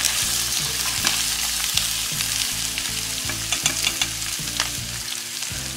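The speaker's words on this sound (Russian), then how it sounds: "Отправляем туда тимьян все это перемешиваем." Turkey and vegetables with thyme fry loudly in a pan, a dense, constant sizzle while a utensil stirs with steady, repeated scraping knocks close by.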